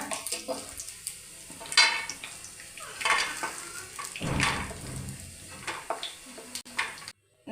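Lightly browned coconut pieces are scooped from hot oil in a pan: quiet frying sizzle under sporadic spoon scrapes and metallic clinks, a louder stirring burst midway, then abrupt silence near the end.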